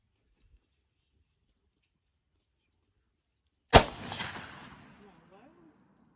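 A single loud rifle shot from a Ruger Mini-14 Ranch rifle firing 5.56x45 NATO rounds cracks out after silence, followed by a short fading echo and faint rustling.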